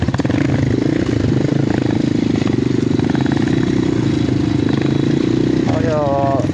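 A motorcycle travels along a rough, narrow mountain path, its engine droning loud and close with clattering over bumps and a brief rising rev near the end, while someone talks over it.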